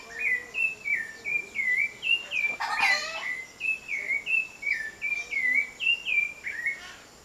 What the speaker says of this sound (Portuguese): É um dos pássaros mais bonitos que eu ouço cantar.